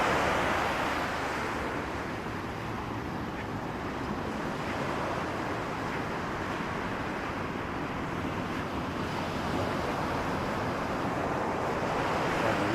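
Ocean waves and surf rushing steadily and loudly, a broad continuous wash of breaking water with wind buffeting the microphone, no voices.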